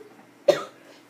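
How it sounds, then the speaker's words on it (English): One short, fairly quiet cough from a person with a fever, a single sharp burst that trails off in an otherwise quiet room. "Sorry if you can hear me coughing."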